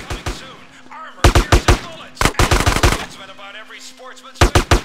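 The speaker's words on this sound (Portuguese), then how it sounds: "Só vou ver um pouco as pessoas atirando nos alvos." Rapid gunfire at shooting targets in the video game GTA San Andreas, loud bursts of quick repeated shots in several clusters separated by brief pauses, with game sounds in the gaps.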